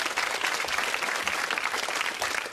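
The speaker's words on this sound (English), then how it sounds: "Give them a round of applause." Studio audience of the 1992 Blockbusters quiz show applauds contestants after a gold run, dense, sustained clapping filling the room evenly from start to finish.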